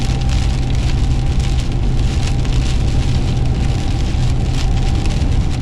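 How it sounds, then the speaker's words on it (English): Steady rain and wind on the Outer Banks on a stormy day, a dense constant wash of patter and low rumble, loud and unbroken with no talk. "I don't know how long this rain and wind is going to stick around"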